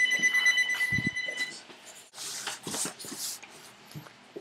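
A telephone rings in a guitar-making workshop, its bell tone sounding through the first second and a half alongside soft handling noises and brief clatter, then fading into quieter room sounds.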